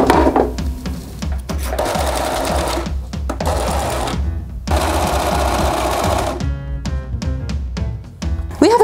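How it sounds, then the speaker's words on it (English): A serger overlocking and trimming the raw edges of garment fabric runs in fast, steady bursts of whirring stitches, pausing briefly between runs, close and loud with no talking. "So now we need to serge the edges"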